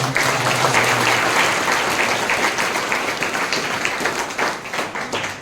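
An audience at the inauguration of a free coaching programme for PSC and Vyapam exams bursts into sustained, dense applause that tapers into scattered claps.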